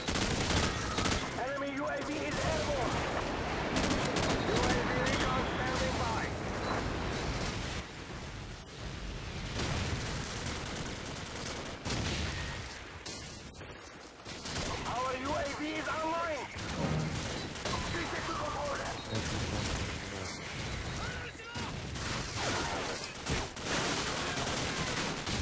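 Rapid automatic rifle bursts and heavy firefights boom through a Call of Duty 4 match on the marsh map, loud and dense, with repeated volleys and brief lulls while a player talks excitedly over the shooting.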